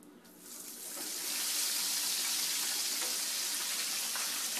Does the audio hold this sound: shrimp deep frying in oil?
yes